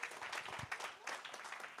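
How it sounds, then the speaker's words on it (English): An audience at a community partnership breakfast claps for two local school board members, a brief patch of moderate, uneven applause from a room of people that sounds slightly distant. "Y'all clap for our 2 school board members that represent this area."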